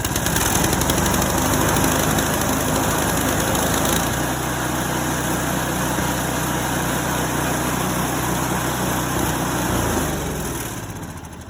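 A small pull-start engine, just fixed after a flooded spark plug, runs steadily and loudly throughout, with a buzzing high whine over a low throb that shifts slightly in pitch near the end.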